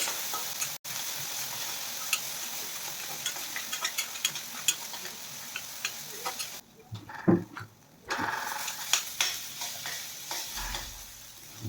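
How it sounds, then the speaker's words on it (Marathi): Onion and garlic frying in oil over medium heat for a brinjal curry, a continuous close sizzle with scattered spoon scrapes and taps, briefly dropping away before resuming, with no talking. "आता ते आपल्याला छान तेलामध्ये 2 ते 3 मिनिटे ते सुटेपर्यंत छान करून घ्यायचे आहे"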